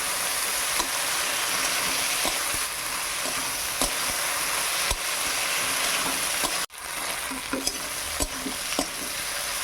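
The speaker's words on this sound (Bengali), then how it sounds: "আমি ভেন্ডি আলু আর মাছটা দিয়ে দিলাম, দিয়ে একটু কষিয়ে নেই" Okra, potato and prawns sautéing in a hot pan, a loud continuous sizzle broken by regular scraping stirs and a brief pause partway through.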